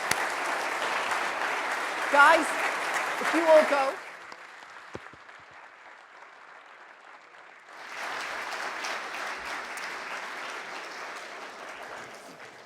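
Audience applause at a U.S. Embassy conference in Dublin after a panel with a government minister, a loud sustained burst of many hands that drops off, leaving someone speaking, then swells up again.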